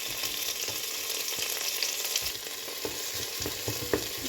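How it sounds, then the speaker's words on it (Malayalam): Curry leaves and green chillies sauté in hot oil in a pan for chicken mappas, giving a steady, close sizzle broken by light scrapes and taps from stirring. "പിന്നെ കുറച്ച് കരിവേപ്പില പിന്നെ ഒരാറ് പച്ചമുളക് ഇതൊന്ന് വഴറ്റിയെടുത്തിട്ട്"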